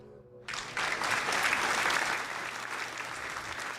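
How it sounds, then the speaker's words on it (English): A crowd breaks into applause abruptly after a quiet moment, a dense burst of many hands clapping that holds steady at moderate loudness and then tapers a little. "Give yourselves a round of applause"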